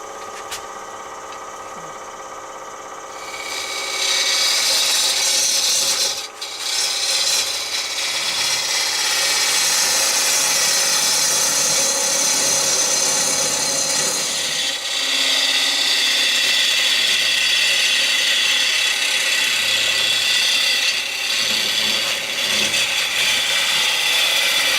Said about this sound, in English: Okay, so here we are, carrying on with the hollowing.